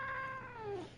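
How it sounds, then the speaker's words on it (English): A cat meows once nearby, a drawn-out, descending, whiny call lasting about a second over a low background hum. "shut up, cat."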